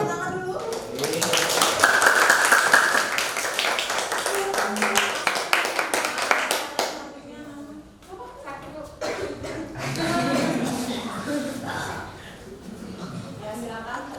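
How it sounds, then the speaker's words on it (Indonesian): Classmates clap their hands together in a classroom, a dense, busy patter of many claps for several seconds that thins out and gives way to chatter and movement, with voices talking over the end. "Yang lainnya tepuk tangan dulu."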